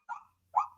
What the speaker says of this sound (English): He just started barking just right when we went live